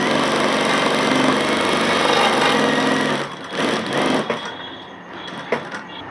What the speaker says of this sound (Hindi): फिर एक सिलाई यहाँ बकरम की मारना है ना, हाफ गोली की